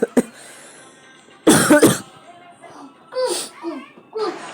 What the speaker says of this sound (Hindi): ये कौन खांसा जा रहा है। खांसी पे खांसी